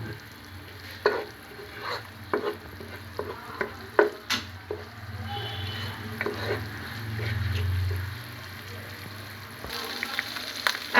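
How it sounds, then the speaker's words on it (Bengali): Bay leaf, cinnamon and cardamom are stirred into frying spices in a pan, with a continuous sizzle, repeated scraping and tapping of the spoon, and a louder swell of frying midway, with no voices. "এখন আমি 2 টুকরো তেজপাতা, 1 টুকরো দারচিনি আর 4টা এলাচ দিয়ে ভালো করে মশলার সাথে মিশিয়ে"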